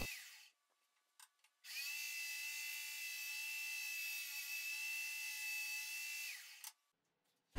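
A power drill whirs loudly at a steady pitch for about five seconds, drilling corner holes with a 10 mm bit, bracketed by brief quiet and short clicks.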